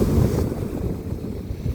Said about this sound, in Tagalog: Laki ng alon ngayon.